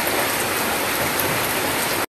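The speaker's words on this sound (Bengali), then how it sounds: "ঝরঝর ঝরঝর জল পড়ছে এখন" Heavy rain pouring down in a dense, steady, loud hiss that continues without a break and then cuts off abruptly.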